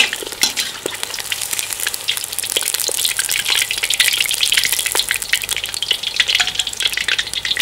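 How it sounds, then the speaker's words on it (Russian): Mutton meat and bones frying in a cauldron over a campfire, giving a dense, continuous sizzle with crackling spatters and occasional stirring scrapes, close and loud with no talk. "Я сначала обжариваю мяско и косточки"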